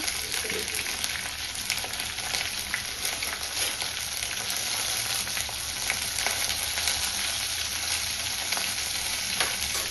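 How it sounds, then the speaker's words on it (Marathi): Green chillies, ginger and garlic sauté in hot oil with a loud, continuous sizzle and crackle, and occasional stirring scrapes, with no talking. "आता हे सर्व साहित्य छान असं परतून घ्यायचं आहे"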